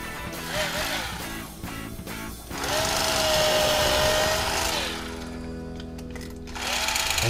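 An electric fillet knife slices through a large perch, its motor whirring steadily with rising and falling pitch as it cuts, pausing briefly between passes, close and fairly loud.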